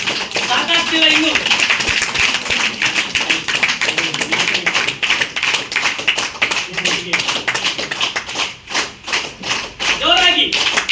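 Sustained applause rises from an audience at a lucky draw prize announcement, with many hands clapping continuously. A speaker's voice cuts in at moments over the clapping, especially toward the end.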